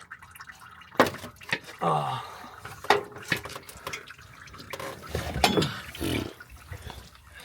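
Motor oil drains from the open plug of a Ford F-150 oil pan, a wet splashing and dripping stream with some clanks, heard close up under a voice talking.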